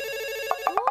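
A mobile phone rings with a steady electronic tone that breaks into quick repeated chirping beeps, fairly quiet against the room.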